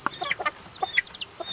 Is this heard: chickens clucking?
yes